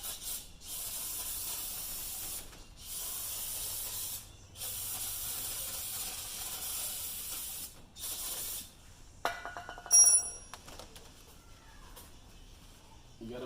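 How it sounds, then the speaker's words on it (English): Brake cleaner sprayed onto the brake parts of a 2019 Dodge Charger Scat Pack fitted with Hellcat rotors and six-piston Brembo calipers: long, loud aerosol hisses in several bursts with short gaps, followed by faint clinking of parts. "Now I'll get my brake cleaner."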